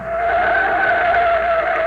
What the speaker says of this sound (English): Hey, what's that car doing? He's coming right out on the field.